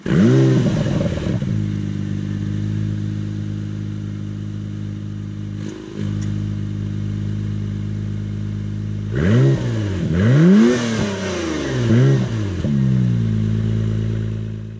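An Acura NSX engine starts up and settles into a loud, steady idle, then gets several sharp revs that rise and fall before it drops back to idle, close and with no voices.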